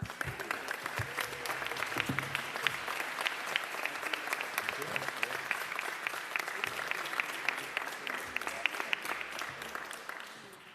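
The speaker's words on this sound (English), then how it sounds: "Anytime we get applause before you say anything, you're doing well." A press conference audience hosted by Mayor de Blasio breaks into applause, steady crowded clapping that runs evenly for several seconds at a moderate, slightly distant level.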